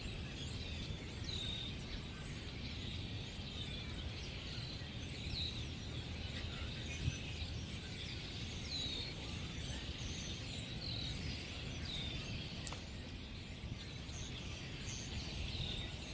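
A flock of birds calls over a lake in Lake Elmo, Minnesota, with many faint, high overlapping chirps spread steadily through open outdoor ambience, heard from a kayak with no talking.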